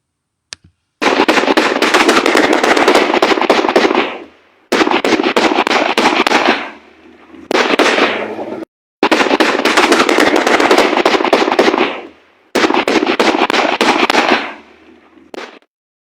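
Long rapid bursts of gunfire, loud and sustained, in four or five extended volleys separated by brief pauses, with no voices.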